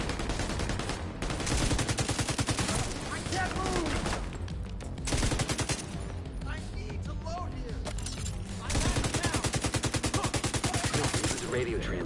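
A turret firing in a video game, rapid continuous bursts of automatic gunfire loud and close, coming in several long stretches with voices talking over parts of it.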